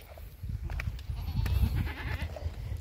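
A Sirohi goat bleats faintly while being milked, with a low, steady rumble of handling and background noise underneath.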